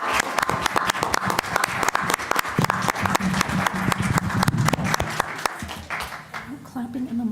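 A small group claps at a board of education meeting, loud sharp hand claps close to the microphone, with people talking underneath as the clapping fades out.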